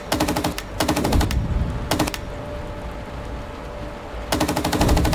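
Tank-mounted machine gun on an M1 Abrams in Gunner HEAT PC, firing in several sharp rattling bursts separated by short pauses, loud and close over a low engine hum.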